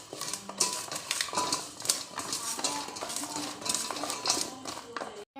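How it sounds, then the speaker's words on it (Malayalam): Chopped tapioca and turmeric powder are mixed by hand in a bowl, making close, busy rustling, squishing and light clinking sounds in quick irregular bursts. "ഇനി നമുക്ക് കൈയിനെ കൊണ്ട് നന്നായി മിക്സ് ചെയ്യാം"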